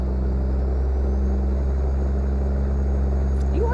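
A quiet, steady truck engine drones at constant pitch while driving in American Truck Simulator with realistic mods, a continuous low hum with a faint high whine and no speech.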